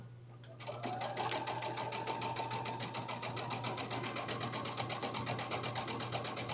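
A sewing machine runs a quilt border seam, starting after a brief pause and then stitching in a fast, even, continuous rhythm, close and steady with no talk over it.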